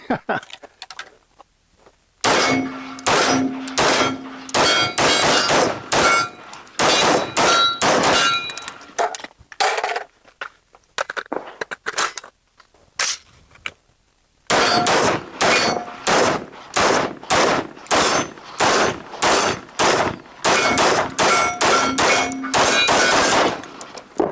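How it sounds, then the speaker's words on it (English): A KCI rifle fires round after round at steel targets, each shot a sharp metallic clang. The shots come in fast strings with a few pauses between them and ring loud and close. "But I'm excited to run this gun."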